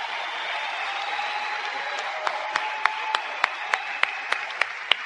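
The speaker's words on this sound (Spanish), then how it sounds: "vamos a darle un aplauso a Ricardo y a la mona." Audience applause for Ricardo and 'la mona' at an events company: a steady, dense wash of clapping hands, with sharp, evenly spaced louder claps in the second half and a faint steady tone underneath.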